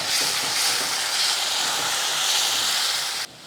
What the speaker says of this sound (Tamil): அந்த மசாலாவை இதில் சேர்த்துடலாம் சேர்த்துட்டு அதையும் கலந்து விடுங்க